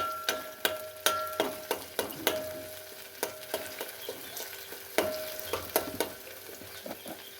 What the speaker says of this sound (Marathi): अभी ये टमाटर प्याज अच्छी तरह से भून लिया हमने